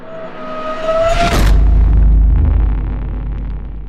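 Vekoma Iron Rattler tilt roller coaster at Six Flags Qiddiya City slams into its final brake run: a rising whoosh, a sharp burst, then a heavy rumbling roar that slowly fades.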